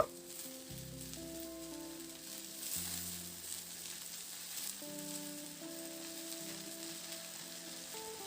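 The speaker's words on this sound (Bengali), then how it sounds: "এরপর এই পর্যায়ে আমি কেটে রাখা শাকগুলোকে অ্যাড করে দেব" Water spinach (kolmi shak) going into a pan of fried lentils, with steady sizzling that holds at an even level throughout, and bright tonal clinks and scraping from stirring layered on top.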